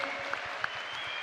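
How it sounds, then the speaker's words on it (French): Steady crowd applause at an ISKA world championsip kickboxing event, a continuous wash of clapping from a large audience with a few sharper claps standing out, heard alone. "Merci d'applaudir la Marseillaise."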